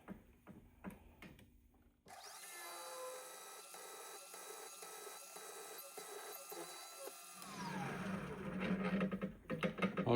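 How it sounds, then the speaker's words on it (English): A number 24 drill bit bores into a small metal ignition part for a hit-and-miss engine, a steady whining hum running for several seconds with faint rhythmic ticks, then a louder rougher grind near the end. "Now this is a number 24 drill."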